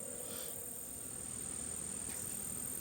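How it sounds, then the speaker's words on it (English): Disturbed honeybees, just shaken out of their hive with sugar or smoke, buzz as a steady, dense drone that stays even and continuous throughout. "Well, I've shook the bees up."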